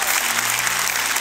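Audience at a church gathering breaks into dense, loud applause, a continuous wash of clapping from a large crowd with no break.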